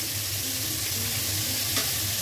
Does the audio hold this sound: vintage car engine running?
no